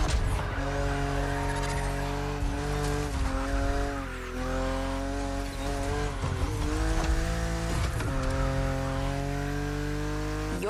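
A BMW Z4 E89 coupe cabriolet driven in The Crew Motorfest, its engine holding a loud steady drone with rising and falling pitch as it shifts through gears, and tire squeal between the shifts.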